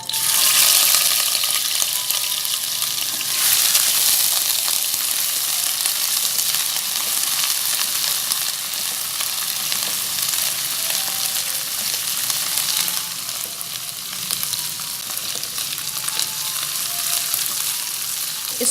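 Ginger garlic paste frying in hot oil, a loud continuous close sizzle with occasional stirring scrapes running steadily throughout without talk.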